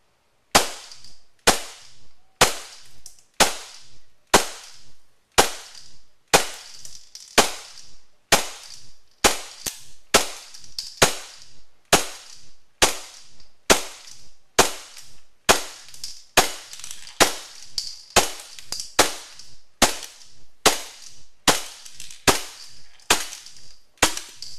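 A WELL 1911 Hi-Capa gas airsoft pistol fires BBs at a target about 10 feet away, giving a long run of sharp, evenly spaced cracks, roughly one per second, loud and close with no talking.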